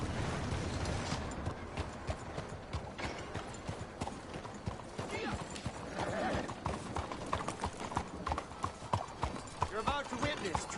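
Horse hooves clip-clop steadily in Red Dead Redemption 2, a continuous trotting rhythm close by with game sounds and a whinny, while voices talk over the top.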